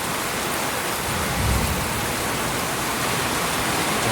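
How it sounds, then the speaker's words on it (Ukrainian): Heavy downpour in a violent thunderstorm with squally wind in Rivne, western Ukraine: a steady, loud, dense roar of rain across the whole stretch, with a slight swell around the middle and no voices. "Прямо злива"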